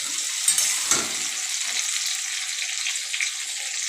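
Spices and chopped tomato frying in hot oil for a meat curry, a loud, continuous close-up sizzle with a few spoon scrapes and knocks early on as the mixture is stirred.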